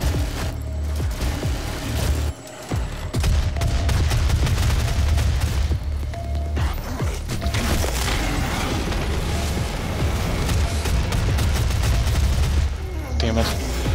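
Rapid turret gunfire in the video game DOOM, a dense, continuous barrage of shots and booming impacts with little pause, loud and close, with voices talking over it.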